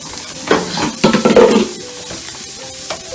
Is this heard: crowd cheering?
no